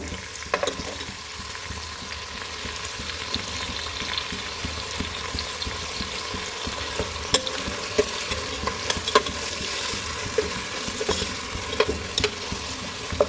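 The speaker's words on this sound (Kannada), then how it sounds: "ಒಂದು ಐದು ನಿಮಿಷ ಈರುಳ್ಳಿನ ನೀಟಾಗೆ ಫ್ರೈ ಮಾಡ್ಕೊಳ್ಳಿ" Onions frying in a pot for chicken dum biryani, a continuous crackling sizzle with frequent scraping stirs and occasional sharp clicks of a spatula against the pan, heard close with no voices.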